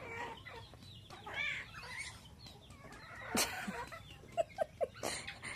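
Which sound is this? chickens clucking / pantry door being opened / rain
chickens clucking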